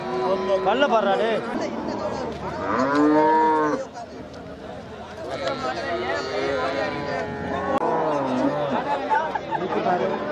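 Cattle moo at the Manapparai cattle market, with one long, loud low call standing out amid constant crowd chatter and other animal noises.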